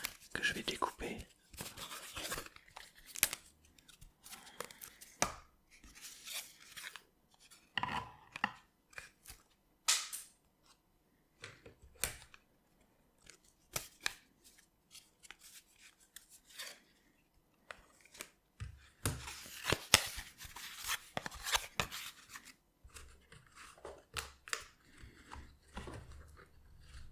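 Scissors cut out circular board game cards in crisp, close snips that come in irregular clusters, with quiet pauses between cuts and a faint, soft voice in places.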